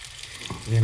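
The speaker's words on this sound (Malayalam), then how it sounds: "ഒരു പ്രത്യേക സ്റ്റൈലുള്ള മീൻ പൊരിക്കലാണ്" Ayala mackerel from Oman frying in a home kitchen for a Kerala-style meal, a soft sizzle that swells into a loud, steady crackle near the end of the short moment.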